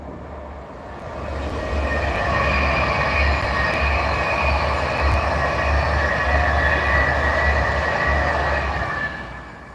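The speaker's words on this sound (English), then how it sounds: "Oh, train." A train rumbles past nearby on the West Coast Main Line north of Crewe, loud and steady, with a low rhythmic clatter of wheels on track that swells and then fades slightly.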